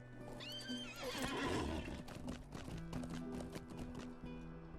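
In the fantasy video game LOTRO, a horse whinnies loudly and clearly, with clip-clopping hooves and steady game ambience continuing underneath.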